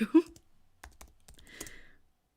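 A brief voice gives way to a short, close burst of keystrokes on a computer keyboard, a handful of soft taps fading out into quiet.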